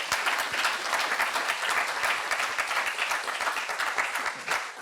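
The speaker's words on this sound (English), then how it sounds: "Let's give a big round of applause." Sustained applause from a class audience welcoming a guest at a university speaker series, steady dense clapping with a faint murmur of voices beneath.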